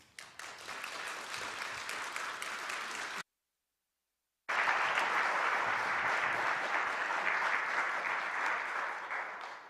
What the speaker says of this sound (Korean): 따뜻한 박수로 우리 함께 강단으로 모시겠습니다